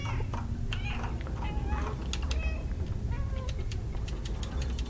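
Cat meowing repeatedly in the video game Stray, a series of short, close, clear meows over a steady low background hum, with no talking.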